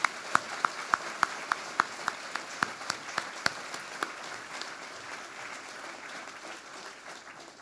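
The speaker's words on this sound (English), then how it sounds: "Please give them a round of applause." An audience at the Hackaday Prize ceremony gives a round of applause, starting with a string of loud, distinct claps near the front that fade into a softer, steady patter of crowd clapping.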